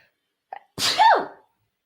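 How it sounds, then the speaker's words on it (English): A sharp sneeze sounds close up after a brief intake of breath, ending in a voiced falling cry. "I'm trying to sneeze"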